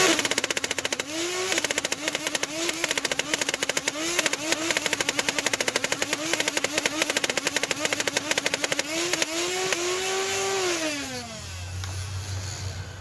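An Out of Darts Proton foam dart blaster empties a nearly full magazine of about a hundred rounds on full-auto: a long, fast rattling burst over a whirring motor that winds down at the end.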